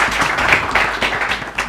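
Audience applauding for themselves at a business innovation pitch event, a short burst of close, brisk clapping with uneven hand hits.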